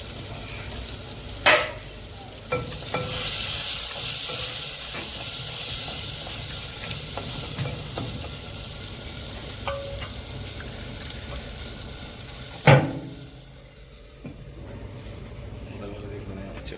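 Mutton bones fry in a hot pan with a steady close sizzle and hiss throughout, occasional spoon scrapes and clacks on top, while a person talks over the cooking.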